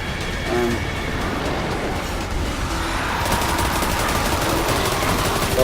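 Rifle fire in the Destiny 2 video game, a dense rapid stream of shots running continuously at steady moderate loudness, getting slightly fuller partway through.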